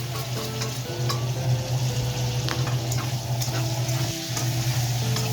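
Potato, sweet potato, green banana and eggplant pieces frying together in oil for shukto, a steady close sizzle with occasional stirring clicks and scrapes and a constant low hum underneath.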